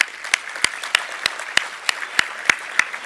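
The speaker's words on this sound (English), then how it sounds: "Can we give them a huge round of applause?" Applause from a tech conference audience at React Miami: a steady train of crisp, evenly spaced claps, fairly loud and close, with no talking over it.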